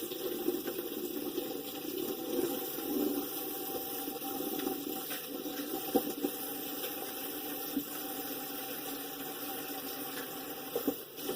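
Tap water runs steadily into a kitchen sink as food is rinsed, a continuous moderate hiss and splash with faint clunks near the end.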